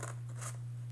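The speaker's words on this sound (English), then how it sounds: "we're going to cut out the dinosaur head we made with our scissors" Scissors snip around the outline of a paper dinosaur head cut for a craft, a few soft, quick cuts close by over a steady low hum, with no voices.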